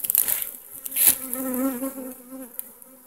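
Honey bees buzz around their hive, where the queen has been found; a dense, close, steady drone with a brief louder swell partway through.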